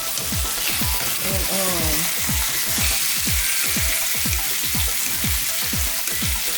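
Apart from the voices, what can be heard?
shrimp frying in olive oil in a pan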